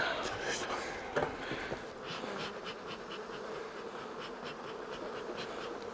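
Honey bees buzzing densely around a hive during beekeeping work, a loud continuous close-up drone of many insects, with a person speaking briefly over it.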